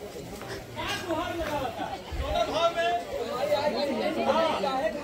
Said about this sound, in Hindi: यहाँ पे आप लोग देख सकते हैं कितना भीड़ लगा है